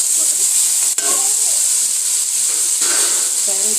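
Carrots dropped into hot oil for vegetable biryani, a steady bright sizzle and hiss throughout with a sharp clatter near the start and soft stirring scrapes.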